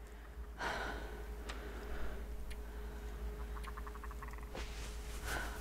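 A frog croaks in the video game The Long Dark: a short run of rapid, pulsing croaks at moderate distance over a steady ambient wilderness hum, with a sharp breath-like burst earlier.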